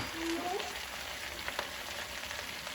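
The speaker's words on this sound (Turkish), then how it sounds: "Evet, şimdi güzelce kavuruyorum." Leeks and carrots sauté in a pan with a soft, continuous sizzle at low level. Faint stirring movements come through, and a brief tonal squeak appears early on.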